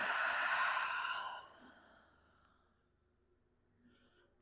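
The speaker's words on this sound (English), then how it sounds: "Exhale, sink back down." A long, audible exhale during a slow yoga flow, a soft breathy rush at close range that fades after about a second and a half into near silence.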